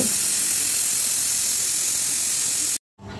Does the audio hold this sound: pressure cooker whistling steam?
yes